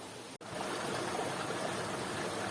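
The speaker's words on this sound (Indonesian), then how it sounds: "kami pun sampai pada titik jalur sungai" Small river stream flowing through dense forest with bamboo, a steady broadband rush of running water close by, continuous after a brief dropout near the start.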